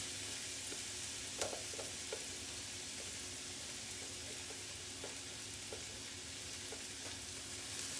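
Vegetables sizzling in a skillet of butter for chicken pot pie, a soft steady fry with occasional faint clicks of stirring, no talk.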